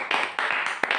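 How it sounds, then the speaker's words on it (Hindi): A class audience claps together for about a second, a fairly loud patter of many hands that thins to a few sharp, separate claps. "एक बार के लिए जोरदार तालियां दोस्तों"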